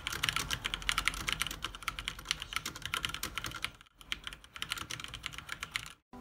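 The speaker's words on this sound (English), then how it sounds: "So this is the typing races." Fast, steady typing on a white Gucci computer keyboard, dense clicking keystrokes close to the microphone with brief pauses near the middle and end.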